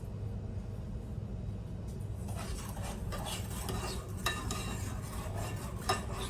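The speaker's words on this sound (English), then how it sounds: "stir that sugar around." Sugar is stirred in a pan, with repeated scraping and light clinking strokes picking up after a couple of seconds over a steady background rumble.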